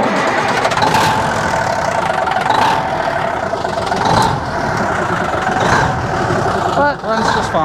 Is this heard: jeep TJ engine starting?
yes